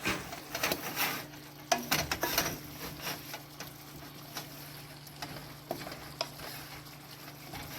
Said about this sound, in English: And then we stir that in.